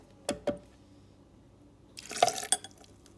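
Water is added to a blender holding carrot puree in a home kitchen, heard as a couple of short drips or splashes followed by a brief, louder pour with a liquid, glassy ring against the jar.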